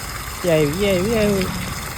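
Steady rush of gushing water from a pump watering fields in a village near Botad runs throughout, with a person's voice speaking over it in the middle.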